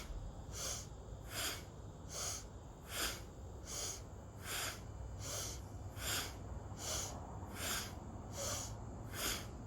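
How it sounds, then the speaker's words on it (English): Powerful alternate-nostril breathing done as an energising seated exercise, with forceful nasal breaths in a steady rhythm of about one every 0.8 seconds. The breaths are loud, close and hissy and sound alone, without talk. "Powerful breath. Inhale left, exhale right."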